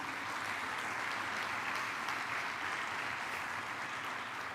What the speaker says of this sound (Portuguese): Dá um aplauso para o Espírito Santo de Deus aí.